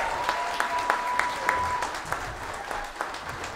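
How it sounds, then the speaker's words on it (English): A telethon audience claps for a saxophone quartet, steady moderate applause with scattered sharper claps and a brief tone heard at the start. "Let's give the sax quartet another huge round of applause."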